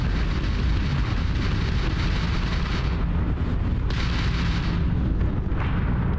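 Crimson Fleet ship weapons firing in Starfield space combat, a dense continuous barrage of heavy booming blasts and rumbling bursts, loud and unbroken throughout with no talk.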